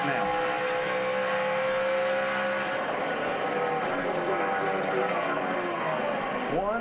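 NASCAR stock cars, including Tony Stewart's number 14, roar around the oval in the closing laps of the 2011 season finale, a continuous loud engine drone with passing revs while a commentator talks over it.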